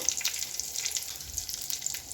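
Asafoetida hitting hot oil with mustard seeds, cumin and curry leaves in a pan for vaghareli bhakri gives a steady close sizzle with bright crackling pops throughout.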